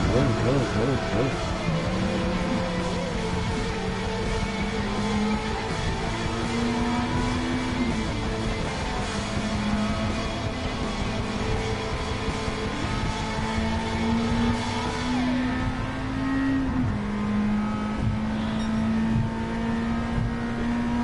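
A video game car engine drones and revs steadily, its pitch climbing and dropping through gear changes, continuous and fairly loud throughout.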